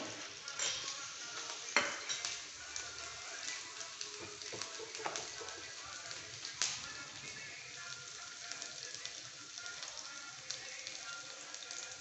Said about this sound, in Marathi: हे भाजलेली आहे मिरची थोडी अजून थोडी भाजली की आपण याच्यामध्ये हा रगडा टाकणार आहे